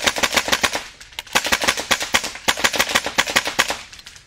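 Kythera V3 AK firing in rapid bursts, a close, sharp clattering volley of shots with brief pauses between strings, loud and without speech.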